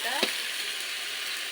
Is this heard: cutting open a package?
no